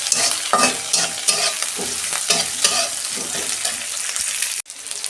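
Tomato tossed into a hot pan in a lentil dish sets off a loud, close crackling sizzle with rhythmic stirring scrapes, then cuts off abruptly near the end.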